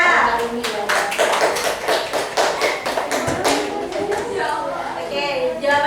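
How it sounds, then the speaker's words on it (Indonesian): Classroom applause rings out as students clap for a classmate's correct answer on global warming, a quick burst of sharp, uneven claps that fades as a teacher's voice returns. "tepuk tangan buat Rika."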